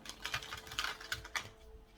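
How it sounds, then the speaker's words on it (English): A deck of tarot-style cards riffled and shuffled by hand, giving a run of quick, soft papery clicks and flutters in several close bursts with brief gaps. "I'm going to go ahead and shuffle this one more time and then cut again"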